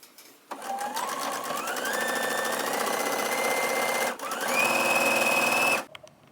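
A sewing machine runs steadily, top stitching a seam on cotton trouser shorts, its whirring rising in pitch as it speeds up, pausing briefly, then continuing at a faster pace before stopping.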